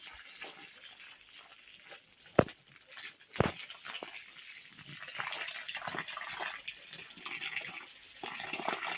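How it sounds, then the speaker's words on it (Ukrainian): Water is poured from a container onto freshly dug soil in a greenhouse, a soft, steady gushing and splashing with a couple of sharp knocks near the start. "І тепер хочу залити його водою, щоб воно набралось вологи."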